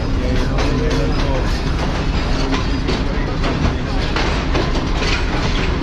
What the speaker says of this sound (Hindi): ये ट्रेन फाइनली पहुंच चुकी है लाहौर जंक्शन पर प्लेटफॉर्म नंबर 5 पर।